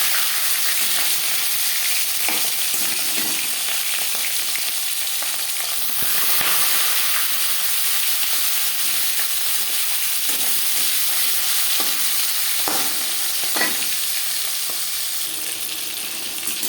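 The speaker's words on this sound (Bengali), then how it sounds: "পাঁচ চামচ সরষার তেল গরম করে নিয়েছি এবার দিয়ে দেবো ম্যারিনেট করে রাখা মাছ" Marinated hilsa fish frying in hot mustard oil, a dense, continuous crackling sizzle with occasional sharper pops and spatters, close and loud throughout.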